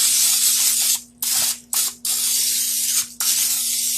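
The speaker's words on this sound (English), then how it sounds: "Now I'm going to take some cooking spray." Cooking spray hissing inside a baking dish, several loud close bursts of aerosol spray separated by short pauses, with a faint steady hum underneath.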